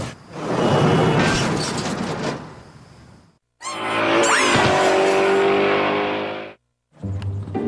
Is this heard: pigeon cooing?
no